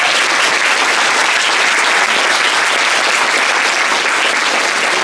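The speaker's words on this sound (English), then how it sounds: "A round of applause for Kim Stratton." Dense, loud audience applause at a Bachelor of Humanities 20th anniversary event, continuous clapping at an even level throughout with no voices.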